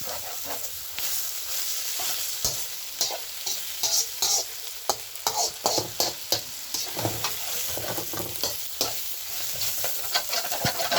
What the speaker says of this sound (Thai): ผัดแห้งๆใส่ซีอิ๊วจ้ะ